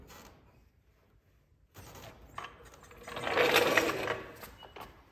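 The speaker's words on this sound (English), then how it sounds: "And then again, lowering the whole jack back down." Mechanical ratcheting and whirring of an aircraft jack being lowered under a Cessna, starting after a quiet pause and swelling to a louder grinding stretch midway before easing off, close by with no talk.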